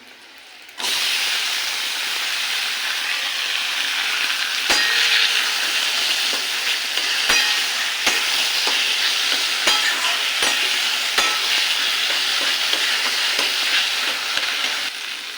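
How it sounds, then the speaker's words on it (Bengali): Boiled taro leaves drop into a pan of fried onion and green chilli, setting off a loud, continuous sizzle and hiss with occasional sharp scraping clicks of a spatula stirring. "এবার দিয়ে দেবো সেদ্ধ করে রাখা কচুর শাকটা।"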